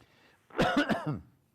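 A single close, harsh cough with a throaty rasp from a man with a cough and flu, briefly loud after a moment of near silence.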